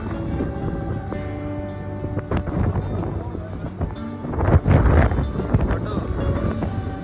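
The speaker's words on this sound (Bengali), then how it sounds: "প্রচন্ড হাওয়া দিচ্ছে, কিছু শোনা যাবে না কথা" Strong sea wind at the coast near Digha buffets the microphone, a loud, rumbling, gusty roar that swells toward the end and drowns out any voices.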